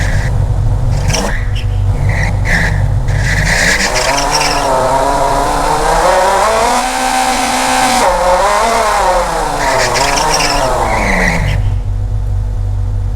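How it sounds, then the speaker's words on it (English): Synthesized car engine built in Krotos Igniter sound design software, loud and close, with rising and falling revs, a high whine and tire-squeal-like tones as the car starts and drives. "Let's start the engine. The car start running."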